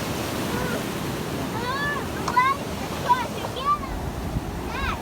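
Waves at high tide wash against a rocky shore at Mount Cass, New Zealand, a steady rushing surf with wind buffeting the microphone, while birds chirp faintly in the background.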